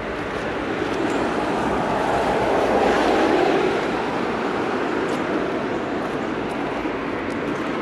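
A tram rolling along a city street in Switzerland on an autumn day, a steady broadband rumble that swells toward the middle as it passes close, then eases off, with no talk over it.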